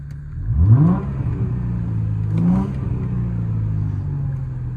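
A 2004 Chrysler Crossfire 3.2 V6 with manual gearbox, stage 1 remap and stainless exhaust, idling close by and given two quick throttle blips that rise and fall before settling back to a steady idle.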